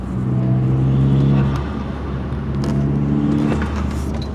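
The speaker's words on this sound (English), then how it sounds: "Got a nice little turbo flutter." Engine of a Saab 9-3 turbo while driving, a steady revving drone that swells and eases with the throttle, with faint flutter-like chatter riding on top near the mic.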